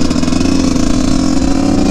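Yamaha YZ144 dirt bike with a thumb throttle, engine revving loud and close, a steady buzzing two-stroke drone with slight fluctuations, no talk.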